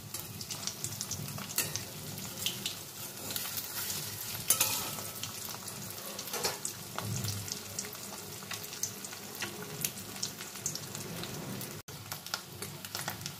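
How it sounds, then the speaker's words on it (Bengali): Eggs sizzle and crackle steadily in a hot pan, a continuous close frying hiss with occasional sharper pops and spatters, no voices. "প্রথম ব্যাচের ডিমগুলো আমি এপিট ওপিট করে ভেজে নিয়েছি।"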